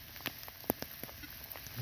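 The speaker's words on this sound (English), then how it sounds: "we're still braving the rain." Rain falls outdoors during a relic dig, heard as faint scattered drops and soft pattering against a steady hiss.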